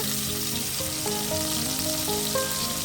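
Onion and garlic paste fries with spices in a pan for an okra and fish curry, a dense, continuous sizzle heard up close, with steady tonal notes running underneath.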